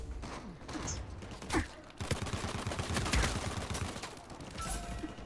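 Gunfire in the action game Uncharted 4, with rapid automatic bursts and single shots rattling over several seconds at moderate loudness, mixed with mechanical clatter and faint voices.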